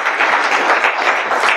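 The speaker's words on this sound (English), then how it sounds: "Oh, they clapped for me." Audience applause breaks out at a Racket programming conference talk, a steady, moderately loud wash of many hands clapping together, sustained without a pause and with no voices over it.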